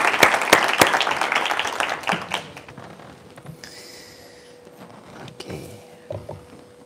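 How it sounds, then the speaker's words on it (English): A short burst of applause opens the clip, claps fading out after a couple of seconds, followed by quieter room noise and faint movement. "Let's give him a big round of applause."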